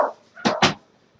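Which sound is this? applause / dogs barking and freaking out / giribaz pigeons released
dogs barking and freaking out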